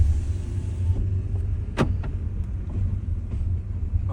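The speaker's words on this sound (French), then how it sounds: "Je vais un peu ouvrir les fenêtres parce qu'il fait chaud. On est sur des vitres électriques automatiques en plus" Electric power windows lowering in an Audi A1 Sportback S Line 30 1.0, a steady low motor whir inside the cabin over engine rumble, with a brief click partway through.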